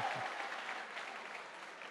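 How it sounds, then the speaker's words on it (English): An audience at a 2018 regional debating award ceremony in Eldoret applauds a winning student, steady dense clapping that carries on evenly throughout. "Put your hands together for the gentleman from Warang High School."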